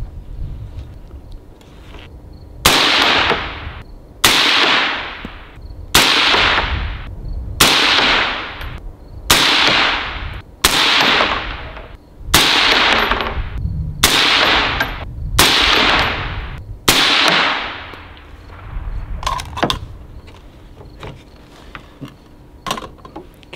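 A rifle fires a string of single shots during group shooting at a range, about a dozen loud sharp reports spaced roughly a second or two apart, each followed by a short ringing decay.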